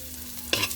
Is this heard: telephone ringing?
no